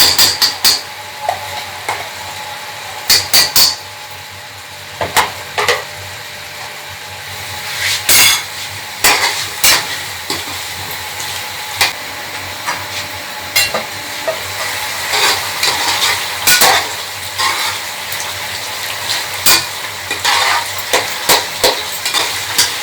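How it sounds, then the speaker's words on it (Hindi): Masala for chicken pulao frying in a pot with salt and yakhni stock added, a steady broad sizzle with repeated sharp clanks and scrapes of a spoon stirring against the metal throughout. "ये मसाला अच्छे से भून गया है।"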